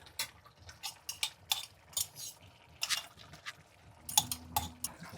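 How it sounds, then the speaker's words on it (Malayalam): A spoon stirring half-cooked chicken with ground spices in a pot gives irregular metallic clinks and scrapes, some sharp and close, with quiet gaps between them. "ഇപ്പോൾ ഇതുകൂടെ നല്ലപോലെ നമുക്ക് ചേർത്തിളക്കാം"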